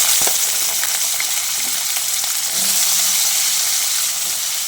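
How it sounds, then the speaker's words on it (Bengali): Diced potatoes frying in hot oil while being stirred, a loud dense sizzle close up with occasional light scraping, no talking. "এবার আলুগুলো দিয়ে তেলের সঙ্গে ভালো করে নেড়ে চেড়ে নিয়ে লালচে করে ভেজে নিতে হবে।"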